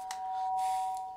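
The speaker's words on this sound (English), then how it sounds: "The sharp sound of the doorbell pierced my sleepy haze and pulled me back to the real world." A doorbell in the Danganronpa video game, a steady ringing chime tone held for about a second, clear and close with no voices over it.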